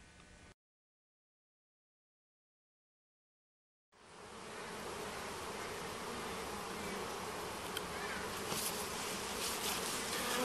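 Dense, steady buzzing of many honey bees close by on a hive frame, a continuous droning hum after a brief silence.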